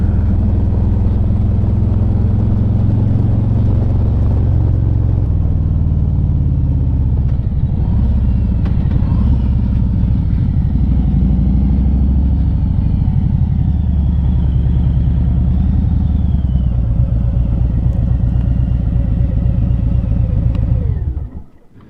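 Motorcycle ride on the Cherohala Skyway in Tennessee, with loud, close engine drone and wind rumble throughout, revs shifting as the bike slows after hitting a gravel patch, fading at the end, no voices.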